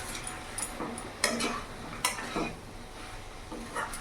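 Fried shrimp and jackfruit are stirred together in a pan over a gas flame, giving soft scraping and occasional utensil clinks over a light sizzle, fairly quiet and close.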